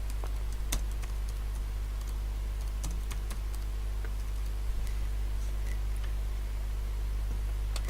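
Close, rapid typing on a computer keyboard, with irregular light clicks over a steady low electrical hum.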